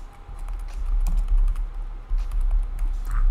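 Typing on a computer keyboard into a WordPress plugin search field: quick, scattered key taps under a loud low rumble and room noise, fairly faint against the background.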